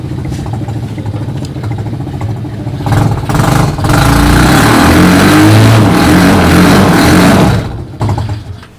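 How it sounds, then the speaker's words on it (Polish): A small kart engine idles, then revs hard and holds a loud, rising drone for several seconds while burning tires, before dropping back, close to the microphone. "Można normalnie gumy palić na tym silniku."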